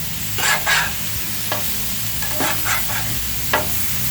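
Smashburgers sear on a 22-inch Adventure Ready griddle by a river; a spatula scrapes the steel and flips patties in several sharp grating strokes over a continuous loud sizzle.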